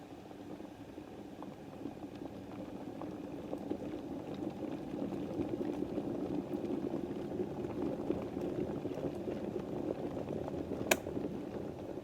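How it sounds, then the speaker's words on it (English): Water boils in a half-filled white electric kettle, a steady rumbling bubble that swells gradually and holds, with a brief click near the end. "you can see the liquid is now boiling inside the white one"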